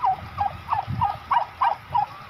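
A turkey gobbles repeatedly in short, bubbling bursts, close and fairly loud, with a low rumble underneath.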